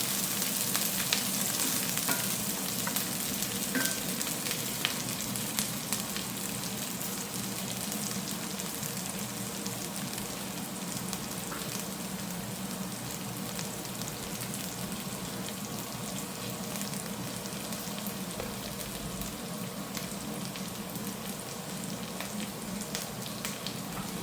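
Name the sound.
green chillies sizzling as they fry in a pan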